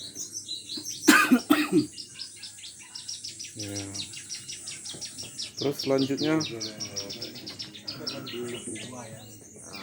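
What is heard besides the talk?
songbirds chirping at a bird-lovers' coffee stall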